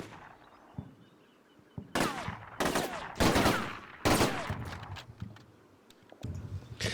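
Squads trade rifle and machine-gun fire in the Combat Mission Shock Force 2 war game, with loud sharp bursts and volleys that come in clusters and echo, over a quieter crackling background.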